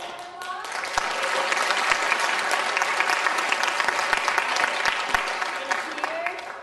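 A room full of people applauding new Canadian citizens at a citizenship ceremony, a dense, sustained clapping that swells and holds steady for several seconds with a few sharper individual claps.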